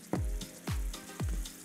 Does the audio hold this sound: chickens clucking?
no